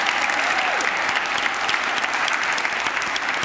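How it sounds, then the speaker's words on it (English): A university event audience applauds in a dense, steady burst of clapping that fills the room, sustained throughout without a break. "Please, let's give Dr. Crosby a big round of applause."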